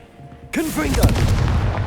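A Confringo blasting spell explodes in a Hogwarts Legacy battle: a sudden loud boom bursts in after half a second of quiet, followed by crackling, rumbling debris and warbling magical tones that ring on to the end.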